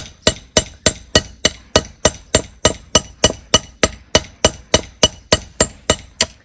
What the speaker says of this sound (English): I'm using this point here to make the hole more